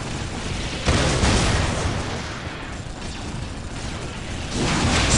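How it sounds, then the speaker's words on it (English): Heavy battlefield fire and explosions in the strategy game Dawn of War, a dense, continuous roar of distant blasts and clattering mechanical noise, swelling slightly in places, without any speech. "Taking heavy fire."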